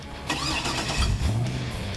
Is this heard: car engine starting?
yes